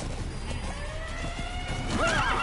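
A horse in Metal Gear Solid V: The Phantom Pain whinnies loudly near the end, a rising and falling neigh over steady hoofbeats and game ambience, with no voices.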